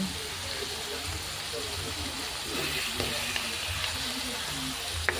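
Garlic, onion and pepper sauté in a pan for arroz caldo, making a soft, steady sizzle with light stirring clatter and a clink near the end, under a voice speaking.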